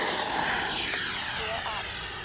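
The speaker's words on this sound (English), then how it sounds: "one more takeoff and landing. Here we go." An FMS Integral 80mm RC jet on takeoff, a loud steady high-pitched turbine whine with a bright tone that fades slightly as the model pulls away across the field.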